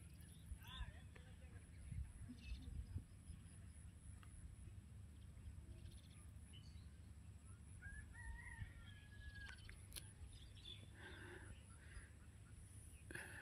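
Chickens clucking and a rooster crowing, with other birds calling, in a quiet graveyard, all faint and distant over a low steady hum.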